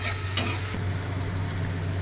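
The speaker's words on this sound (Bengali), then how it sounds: "এবার টমেটো কুচি দিয়ে ভাজবো।" Chopped tomato frying with ground coriander, cumin and Kashmiri chilli powder and a little water in a pan, a steady close sizzle with a brief scrape of stirring.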